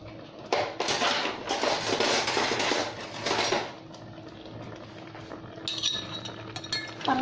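A metal spoon clinks and scrapes against a bowl while scooping fermented fish for a Thai mushroom curry, a run of bright clattering knocks for a few seconds, then quieter clinks after a pause.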